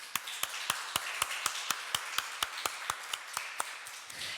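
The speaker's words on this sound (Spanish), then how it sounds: "Damos un aplauso a Dios, por favor." A church congregation claps in a slow, steady unison beat, about seventeen sharp, evenly spaced claps that ring out at moderate loudness in a reverberant room, with no talking.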